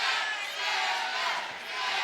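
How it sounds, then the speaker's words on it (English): A fight crowd at an MMA event rumbles in a distant, steady roar of chanting voices that rises and dips slightly without distinct words. "Crowd coming alive, chanting Devon Brock's name."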